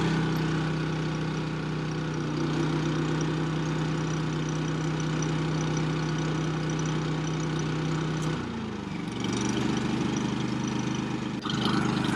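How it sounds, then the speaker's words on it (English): RV generator runs in economy mode with a steady, close, low droning engine hum, then dips and settles into a slightly different pitch near the end. "we're going to crank up this generator here"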